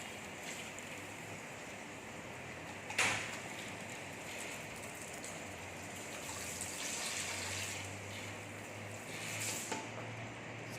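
Water running and splashing as hair is rinsed at a salon shampoo basin, a steady soft gushing flow with a brief splash near the start, faint and even throughout.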